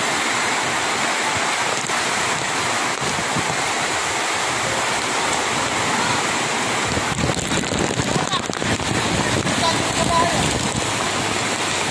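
Typhoon Enteng lashes Burdeos, Quezon with a steady, loud roar of heavy rain and strong gusting wind, continuous throughout and swelling in intensity midway, with no talking.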